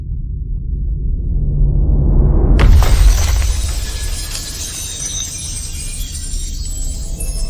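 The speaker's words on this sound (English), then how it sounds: "A pane of glass shattering in extreme slow motion against a pitch-black background." A pane of glass shatters after a rising low rumble, a sudden loud crash followed by a long trail of tinkling, scattering shards that slowly thins out.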